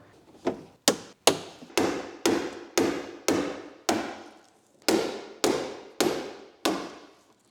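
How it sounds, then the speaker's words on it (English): A hand-held impact screwdriver struck by a hammer to free bolts on the turbo actuator of a BMW E30 with an M50 engine, about a dozen sharp metallic blows in a steady rhythm, loud and close, with no speech. "Impact screwdrivers are the best."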